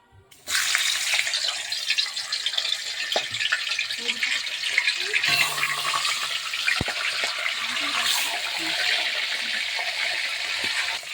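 Fish coated in salt and turmeric fries in a pan, starting with a sudden loud, steady sizzling hiss that continues close by with a few small pops and crackles.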